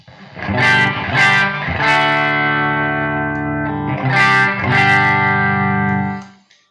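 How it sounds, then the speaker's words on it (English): A few clean electric guitar chords are struck and left to ring through a Boss Katana amplifier on a clean channel with no effects, sustaining loudly before fading out at the end, with no voices. "I'm running it into a clean channel with absolutely no effects, completely dry."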